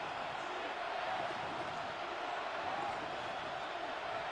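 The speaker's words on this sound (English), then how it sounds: "This crowd into it now as we get to third down" A stadium crowd in the Madden 26 video game keeps up a steady, broad roar of cheering and noise that stays even throughout, with no voices standing out.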